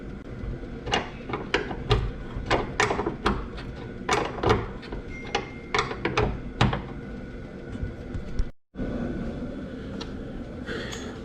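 Hand wrench loosening a part on a Nissan GT-R, a run of sharp metallic clicks and ratcheting clacks in uneven bursts, close up over a low garage hum, with a brief dropout near the end.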